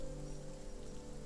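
Rain falls steadily in the Surviving Mars video game, an even hiss running throughout over a low droning background hum, with no one talking.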